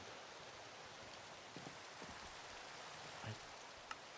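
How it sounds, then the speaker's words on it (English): Rain patters steadily on wooden surfaces in a Minecraft world, a soft continuous hiss with a few faint drips and taps rising briefly above it, quiet and unbroken throughout. "That might just be the rain on the wood outside."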